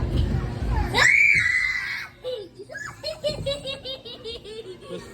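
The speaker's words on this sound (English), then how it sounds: "Quit screaming though" A child screams loudly and shrilly for about a second during a trip to the Sloan Museum in Flint, Michigan, followed by bursts of squealing, giggly chatter close by.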